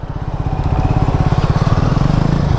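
A motorcycle engine running close by with a fast, pulsing throb that rises slightly in pitch, loud and continuous on a ride home from Srisailam toward Hyderabad.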